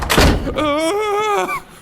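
A door slams hard in a horror-story sound effect, a sharp close thud at the start, followed by a sustained wavering voice-like tone that fades out.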